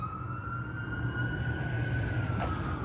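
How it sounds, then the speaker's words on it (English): Emergency vehicle siren on South Main, a steady rising-and-falling wail held loud and continuous throughout, with road traffic rumbling underneath and no talk. "we're about to hear a lot more sirens"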